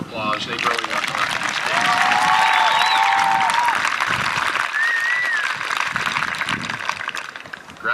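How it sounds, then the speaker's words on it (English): Graduation audience at Weaverville Elementary applauding the teaching staff, a sustained dense wash of clapping that swells and holds steady throughout, with a few whoops and cheers rising above it. "can we give the Weaverville teaching staff a big round of applause?"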